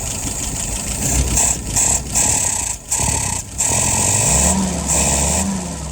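A Wolverine 636S engine, stated as a newly built or rebuilt unit with plugs loading up, starting and running with a loud, steady rumbling idle and a few brief dips in the drone.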